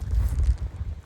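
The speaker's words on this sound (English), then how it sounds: "Sorry about the wind." Wind buffets a microphone in low, gusty rumbles, a brief burst of blustery noise with no talking.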